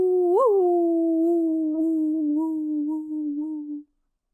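A human voice imitates a wolf howling, one long sustained howl that swoops up at the start, then holds and slowly drifts lower before stopping abruptly, loud and close.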